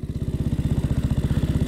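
A 1927 Sunbeam Model 6 motorcycle pulls away in first gear, its single-cylinder engine thumping in a fast, regular beat, loud and close throughout with no talk.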